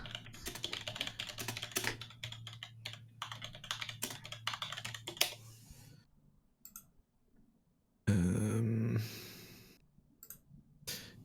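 Rapid clicky typing on a SteelSeries Apex M750 computer keyboard, dense keystrokes for several seconds over a low hum, then a pause and a short loud burst followed by scattered taps.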